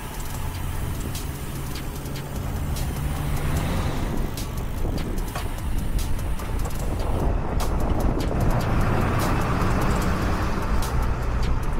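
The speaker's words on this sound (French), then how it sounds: "Voiture." A car approaches a group of road cyclists during a long club ride, its engine and tire noise swelling from a low rumble into a broad, loud rush over steady wind noise.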